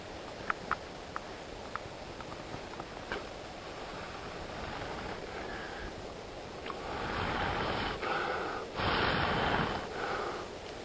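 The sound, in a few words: blowing a friction fire ember into a flame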